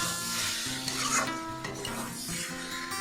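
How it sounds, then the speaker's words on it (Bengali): A spoon stirs and scrapes chilli paneer around a pan with sugar just added, giving a steady, close rubbing and scraping texture with light sizzling underneath and no talking. "দিয়ে ভালো করে নাড়াচাড়া করবেন"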